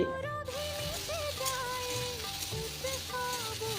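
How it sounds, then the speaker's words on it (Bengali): Eggplant and green chilli fry in a pan with a continuous soft sizzle under a steady tonal backdrop, with no voices. "প্রথমে আগে বেগুনটা কাঁচা লঙ্কাটা ভালো করে ভেজে তুলে নেব"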